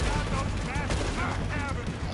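Gunfire rattles through a Red Dead Redemption 2 gameplay scene in first person, with rapid shots and bursts clustered together while voices talk over the shooting.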